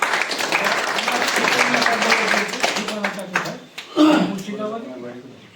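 An audience at a literary festival claps to congratulate an author, a dense patter of applause that fades out, with a speaking voice rising over it near the end.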